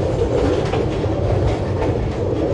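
Parabat Express train running on rails in Bangladesh, a dense continuous rumble with steady clickety-clack from the wheels, heard close from inside the carriage throughout.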